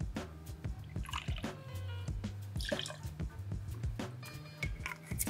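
Amaro Montenegro, about 15 ml, poured into a Boulevardier-style whiskey cocktail, a close series of splashing drips and trickles with uneven rhythm, heard without talk.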